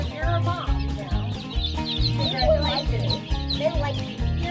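Hundreds of one-day-old farm chicks peep in a brooder, a dense chorus of high chirps over a steady low rhythmic hum, close and loud throughout.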